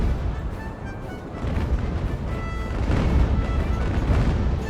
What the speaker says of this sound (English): Vengeance putting her broadside in.